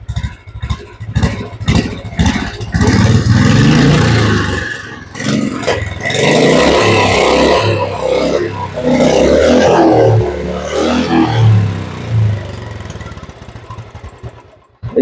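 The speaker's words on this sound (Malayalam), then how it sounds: "വണ്ടി നമ്മൾ സ്റ്റാർട്ട് ചെയ്യുന്നു കേട്ടോ. സ്റ്റാർട്ട് ചെയ്തു." A used Royal Enfield Bullet motorcycle engine sputters through a few starting bursts, then catches and runs up close with a thumping idle and several throttle blips before cutting off near the end.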